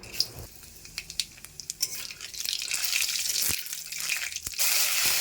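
Boiled green papaya pieces drained of their cooking water in a home kitchen, giving a steady rushing, splashing pour with scattered clinks of the pot, growing louder and fuller toward the end.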